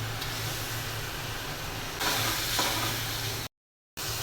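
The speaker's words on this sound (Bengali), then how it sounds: "এখন মাছের টুকরোগুলো দিয়ে দিচ্ছি।" Fish pieces sizzle in a hot pan of spiced curry base, a steady close frying hiss that swells louder partway through, then cuts out briefly before resuming.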